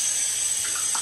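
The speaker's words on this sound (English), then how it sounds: "Now get the face washed off here and we'll get into the splash." Cold tap water runs steadily into a bathroom sink while a face is being washed, a constant close hiss with faint splashes toward the end and no talk.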